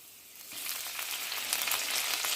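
A ladle of stock hits a hot pan of garlic prawns, and the quiet sizzle jumps into a louder, hissing bubbling fry that holds steady to the end.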